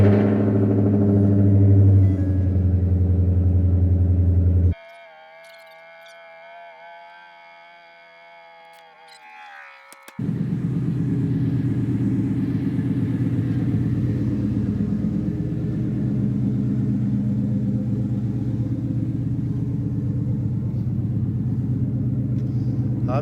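A deep Gen 2 Ford Coyote V8 engine rumbles loudly at idle, cuts out briefly to a quieter stretch with a thin whine, then roars back and keeps running steadily.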